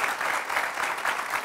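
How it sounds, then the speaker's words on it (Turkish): Studio audience applause on a Turkish talk show, a dense steady wash of clapping filling the whole moment without a break, loud and close with no voices over it. "Buna bir alkış"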